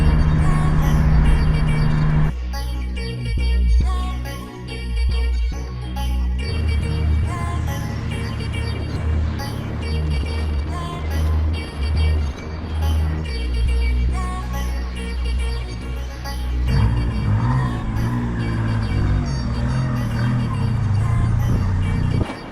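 Suzuki Cappuccino car on a long drive home, steady low engine and road drone from inside the cabin, with shifting tones as it changes speed across the stretch.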